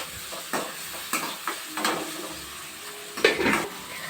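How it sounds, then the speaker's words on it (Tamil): A spatula scrapes and stirs chopped tomato in a pan over a soft sizzle, with repeated clinks and scrapes at an uneven rhythm, close by. "கொஞ்சம் வதக்கிக்கலாம்"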